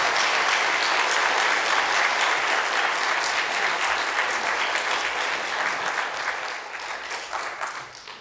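A church congregation applauds loudly at a Saturday morning service welcoming a mission team back from India. The clapping is dense and continuous, then thins and fades slightly toward the end.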